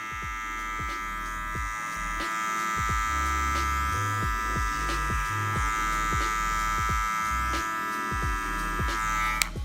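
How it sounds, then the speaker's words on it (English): Electric hair clipper buzzes steadily while softly blending a taper fade, its hum broken by repeated short strokes as the blade passes over the hair, close and continuous. "just softly going over it, using more so my right side of my clipper"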